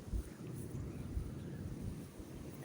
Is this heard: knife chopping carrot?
no